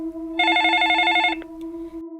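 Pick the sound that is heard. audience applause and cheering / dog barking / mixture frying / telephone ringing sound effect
telephone ringing sound effect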